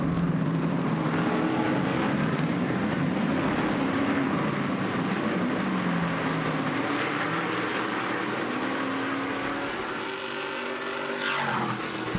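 Stadium Super Trucks race on a circuit in Nashville, their engines roaring loudly and continuously, with pitch swells as trucks pass and one higher whine rising near the end.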